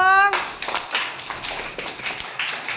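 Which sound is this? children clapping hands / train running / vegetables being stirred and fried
children clapping hands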